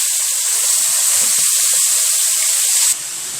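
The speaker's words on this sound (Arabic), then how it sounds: "دلوقتي الزيت بتاعي سخن معايا كويس جدا، انا هنزل بقى بالفراخ كده" Raw chicken pieces lowered into well-heated oil, a loud steady broadband hiss and sizzle running close and continuous, dropping abruptly to a quieter sizzle near the end.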